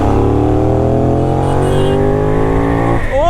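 A Benelli 752S superbike accelerates hard, its engine note climbing in a loud, continuous rising whine close to the rider, with a brief drop at the end as the revs shift.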